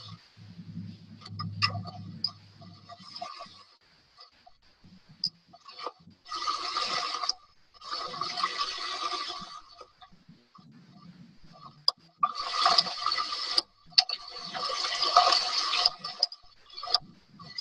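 Dredging pump moving a slurry of water and sand, heard in rushing, gurgling surges that swell and fade in several bursts, with a low rumble early on and quieter gaps between.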